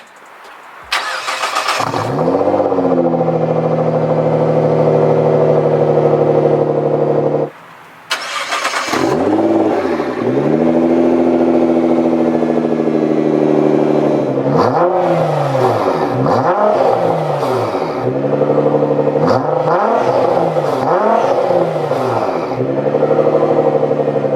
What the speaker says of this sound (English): So now let's start these two things up because this car sounds pretty good